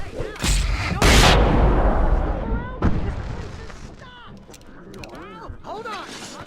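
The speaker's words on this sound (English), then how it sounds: "I can set off more of the fireworks from here and help." In the Alan Wake video game, fireworks go off at a concert stadium: heavy booming bursts at first, then scattered crackling pops and whistles. Voices are heard in between.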